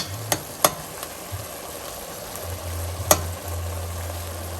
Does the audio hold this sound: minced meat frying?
yes